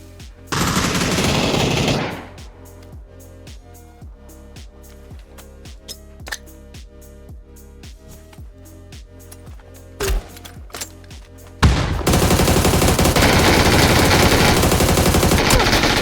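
Gunfire in the battle royale game PUBG, a long string of evenly spaced single shots with a couple of sharper bursts, set between loud, dense stretches of rushing noise at the start and end.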